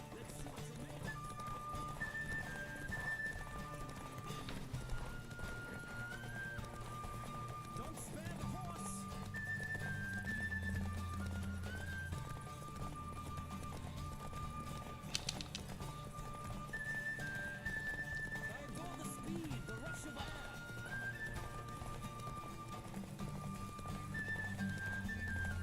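Horse hooves clip-clop at a gallop during a race in The Witcher 3 next-gen update, with whinnies and neighs breaking through over game music and a low ambient bed.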